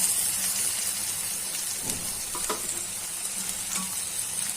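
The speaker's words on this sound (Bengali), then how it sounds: "এই যে কলিজাগুলা আগে থেকে ভাপিয়ে রাখা কলিজাগুলা দিয়ে দিচ্ছি পেঁয়াজের মধ্যে।" Steamed chicken liver tipped into lightly fried onions in a hot pan for a desi chicken liver bhuna; a loud, close, steady sizzle with a few clattering stirs and no talking.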